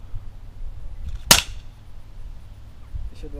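A single sharp sniper rifle shot cracks once, loud and sudden against a quiet background, followed by faint handling noises.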